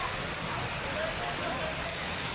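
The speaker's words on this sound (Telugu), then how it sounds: "చూడండి ఎంత ఘోరమైన వాన." Heavy rain pours down steadily, a dense, even hiss that holds at a constant level throughout without pause.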